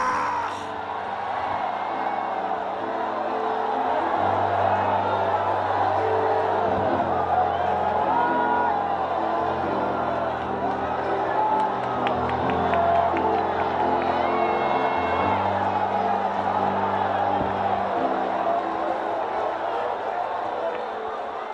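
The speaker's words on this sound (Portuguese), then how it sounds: "dê um grito de glória!" A church congregation at a Pentecostal service shouts and cheers in a loud, sustained roar that fills the whole stretch, with voices yelling over a continuous backing tone.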